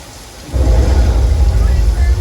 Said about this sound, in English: They do try to make the raindrops really big so it shows up a little better on film.